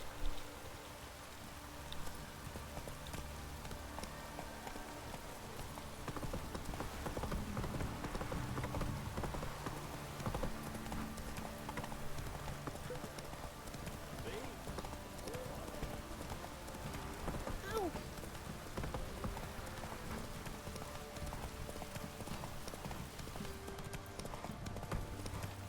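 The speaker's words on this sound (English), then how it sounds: "Come, horse." A horse in The Witcher 3 video game clip-clops steadily through falling rain, its rhythmic hoofbeats running the whole way under a constant hiss of rain.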